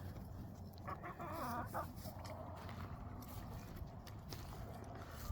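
Backyard chickens and roosters make faint, scattered clucks and a short warbling call over a low, steady background hum. The sounds come from a winter coop and there is no talk.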